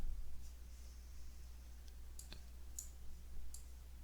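Faint, sparse mouse clicks on a computer running ArcGIS Pro geoprocessing tools, a few isolated sharp ticks over a steady low hum.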